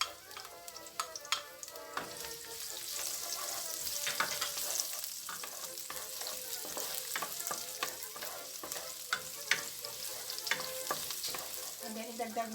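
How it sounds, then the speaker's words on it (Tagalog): Garlic sizzles in hot cooking oil in a pan as the base for a clam soup, with bright crackling frying and scattered stirring scrapes throughout. "idagdag at isutay natin ang ating garlic"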